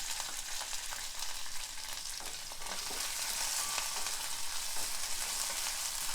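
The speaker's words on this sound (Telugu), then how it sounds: "దీన్ని కొంచెం వేగనివ్వాలి." Halved green chillies frying in oil in a pan, a dense continuous sizzle with light crackling and occasional faint stirring, close and steady throughout.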